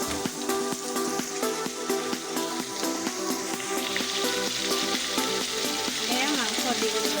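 Mutton pieces frying in a pan, a loud steady sizzle with crackling pops throughout and music playing underneath.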